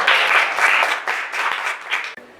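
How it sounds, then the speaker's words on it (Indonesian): A short burst of enthusiastic applause from a crowd, dense clapping that fades out after about two seconds. "Tepuk tangan dulu untuk pemerintah Kabupaten Sragen"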